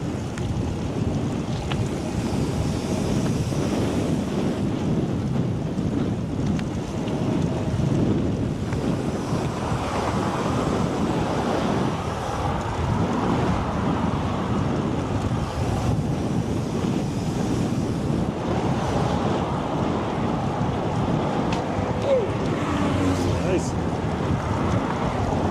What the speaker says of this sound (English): hopefully that headwind breaks when we get into the city